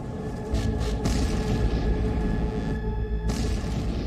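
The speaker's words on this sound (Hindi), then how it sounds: "तीसरे ड्रोन का धमाका" A deep boom from a drone strike on Kyiv rolls into a sustained low rumble, loud and heavy, with no voices.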